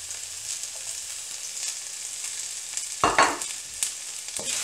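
Ginger, garlic and chili sizzle in hot oil, a steady frying hiss with a louder burst of crackle near the end as the ingredients are stirred, close and without talk.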